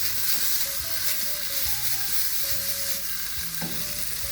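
Chicken chaufa fried rice ingredients sear in a hot pan over medium heat, making a steady loud sizzle with stirring and scraping, and utensils knock now and then.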